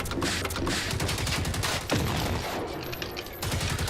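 Dense, sustained gunfire from the Terminator video game, rapid overlapping shots with a sharp blast near the middle, loud and continuous throughout.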